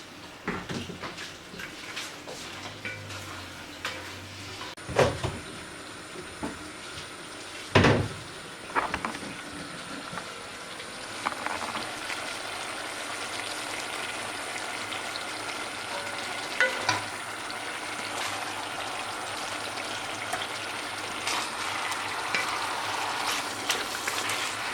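Tomato being added to a meat tajine with peas and fennel, with soft frying sizzle under clattering pot and lid knocks and a few sharp bangs, close by, no talk.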